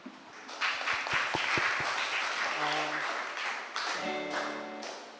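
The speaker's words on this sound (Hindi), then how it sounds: "संदेश के लिए तालियां बजाएंगे।" A church congregation applauds during a Sunday evening service, a brief burst of claps at first that gives way to voices and a sustained sung or spoken tone, with people talking throughout.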